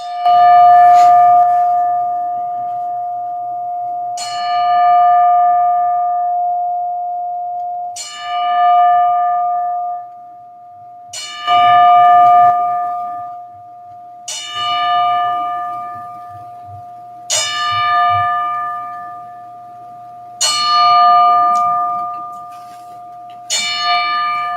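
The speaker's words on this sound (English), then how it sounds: "in tribute to Marvelous Marvin Hagler, a 10-bell salute." A boxing-ring bell tolls ten times in a ten-bell salute tribute to a late champion at a fight event, evenly spaced single clear strikes each ringing out and decaying over a low steady hum, with no talk.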